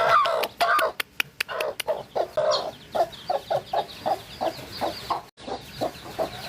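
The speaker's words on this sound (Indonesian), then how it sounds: "Kita kasih makan ke ayam ini" Chickens cluck and peck while being fed, a rapid run of short, fairly loud clucks close by, spaced into an uneven rhythm that quickens and thins out, with chicks nearby.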